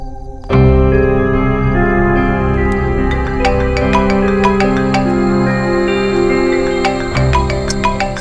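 A phone rings with a bright, repeating electronic melody, loud and close, playing on without any talk over it.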